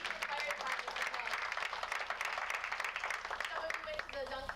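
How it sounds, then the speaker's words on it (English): Audience applause fills a community awards ceremony, steady dense clapping throughout at moderate volume with voices mixed in underneath. "I have to give you a round of applause."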